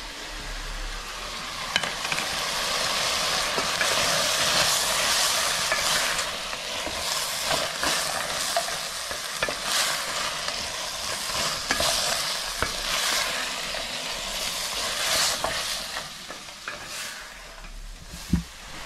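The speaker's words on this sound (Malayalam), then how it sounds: "ഒണിയൻ ജസ്റ്റ് വാടി വരുന്ന സമയത്ത് നമ്മളിപ്പോൾ ക്യാഷ്നട്ട് ഇട്ടായിരുന്നു" Onions and cashew nuts sauté in a pan for butter chicken, a constant sizzle overlaid with repeated scraping and stirring strokes, close and fairly loud, ending with a small clank.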